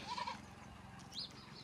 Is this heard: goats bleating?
yes